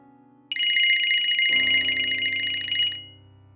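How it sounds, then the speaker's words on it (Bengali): A loud electronic ringtone starts abruptly and plays a steady, buzzing tone pattern for a few seconds, then cuts off and fades. "আবার ফোন বাজলো"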